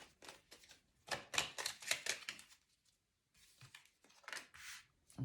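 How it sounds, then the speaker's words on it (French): Tarot cards shuffled and drawn by hand in a quiet room, several bursts of crisp rustling and flicking with short pauses, close and clear. "je prends quelques cartes du Béline"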